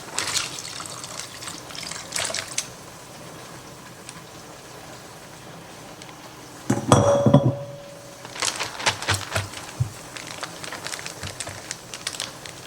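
Coated beef is poured from a glass dish into a freezer bag in a home kitchen, a short wet sloshing gush with clinks of glass before and after, near and moderately loud.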